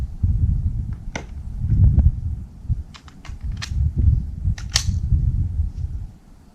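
Rapid gunshots ring against steel targets during Steel Challenge practice at a shooting range, a quick irregular cadence of sharp cracks and metallic pings over a low background rumble, with no talking.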